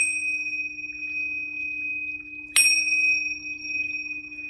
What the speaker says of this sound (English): first I'm going to give everything a cleanse with the tincture bells